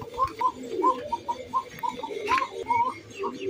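Racer fancy pigeons coo in a repeated run of soft, rolling calls, close by, with faint ticking in the background and no talk.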